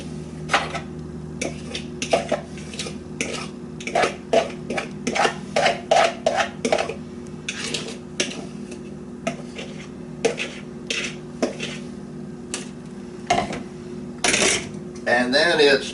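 White kimchi dressing gets mixed into napa cabbage in a bowl, making irregular clinks, taps and wet rustles in uneven bursts, close by, with a voice talking quietly underneath throughout.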